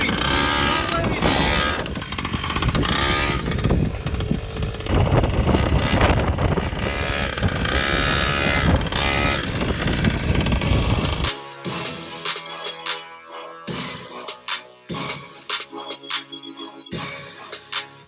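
A Primal MT Raminator 1/5 scale gas RC monster truck's small petrol engine runs loud and raspy nearby, revving hard for several seconds before settling into a choppy idle with sputtering blips.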